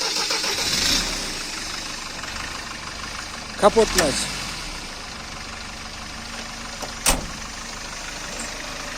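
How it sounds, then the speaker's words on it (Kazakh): An engine turns over and catches, then settles into a steady low idle, with a brief later burst and a person speaking briefly. "Азыр мотор үнүн угуп жүргүзүп беребиз сиздерге"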